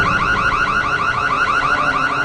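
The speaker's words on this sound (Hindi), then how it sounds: "वो उस रिमोट का यूज करते हुए सिक्योरिटी अलार्म चालू कर देती है, जिससे घर में चारों तरफ अलार्म की आवाज गूंजने लगती है" A security alarm blares through a house in the horror film Don't Breathe, a loud, continuous warbling electronic siren that repeats in rapid regular pulses throughout, with no other sound over it.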